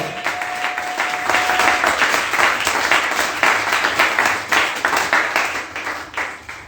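Congregation at a church gathering cheering for the king, producing sustained, dense applause that swells in rhythmic waves and fills the room for several seconds.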